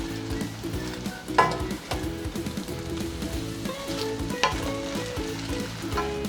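A spoon stirs chicken sausage orzo with Parmesan in a single pot, scraping and knocking over a steady sizzle at close range, with a few sharper clacks against the pot.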